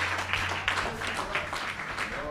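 Church congregation applauding the Lord during a service, a brief burst of rhythmic clapping with voices mixed in, close and fairly full for just over two seconds.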